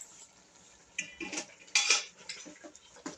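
Chopped tomatoes, five or six cut small, tipped into a cooking pan for chicken curry, giving a few sharp clinks and scrapes of utensil against the pan with soft sizzle in between, close and moderately loud, with no talking.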